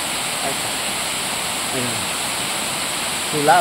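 Steady roar of a river waterfall where catfish are being fished, a continuous broadband rush filling the scene, with someone talking briefly over it.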